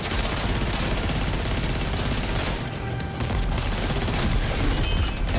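Loud, dense, sustained gunfire from the video game Death Stranding 2, with overlapping rapid shots forming an unbroken barrage.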